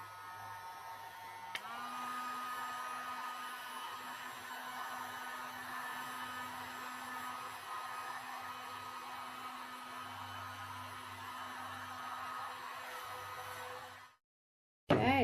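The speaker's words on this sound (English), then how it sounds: "I'm going to introduce my friend right here, the heat gun" Heat gun blowing steadily over resin art, a continuous airy whoosh with a hum, running nearly fifteen seconds close to the mic before cutting off abruptly.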